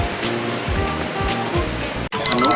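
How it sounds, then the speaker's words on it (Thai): Water flows steadily through a stream at night beside a riverside camp in rural Thailand, a constant close rushing wash that cuts out abruptly near the end before a few brief faint tones. "สักพักเราก็เข้านอนฟังเสียงน้ำไหลนะครับ บรรยากาศดีมาก"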